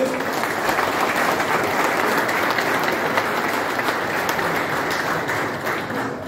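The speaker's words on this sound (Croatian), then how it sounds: "Pozdravimo im velikim pljeskom." Sustained, dense applause from a large audience at a military award ceremony in Široki Brijeg, steady and loud throughout without a break.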